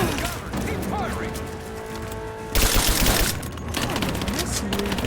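Rapid bursts of gunfire from the video game Rise of the Tomb Raider crackle through a loud fusillade, with a dense stretch of sustained shooting midway, while a voice talks over the action.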